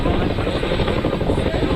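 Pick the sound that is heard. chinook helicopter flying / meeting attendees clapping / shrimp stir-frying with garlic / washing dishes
chinook helicopter flying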